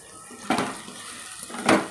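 Drumstick pieces being mixed with masala in a cooking pot, two brief scraping clinks of a spoon against the metal pot amid quiet background.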